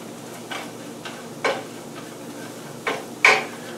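A spoon stirs onions cooking in a pot, giving a few soft scraping strokes and light knocks at irregular intervals over a low background sizzle.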